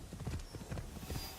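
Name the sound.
horse hooves clip-clop, from video game Assassin's Creed Shadows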